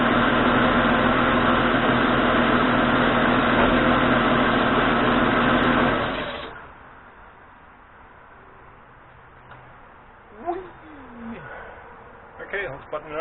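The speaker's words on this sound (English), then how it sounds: "My exhaust leak's a little more pronounced." A Renix-era Jeep Cherokee XJ engine runs loud and steady with a leaking exhaust, a dense broadband roar that cuts off sharply partway through, leaving quiet background and a few brief noises.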